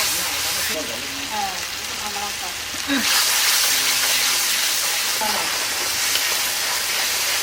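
Water poured into a hot frying pan in a village kitchen while cooking jackfruit with prawns, a sudden loud hiss bursting up and settling into steady bubbling sizzle, with someone speaking beforehand.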